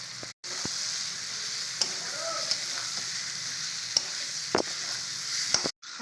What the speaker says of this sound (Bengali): মশলাটা কষানো হয়ে গেছে, এবার আলুগুলো দিয়ে দেবো।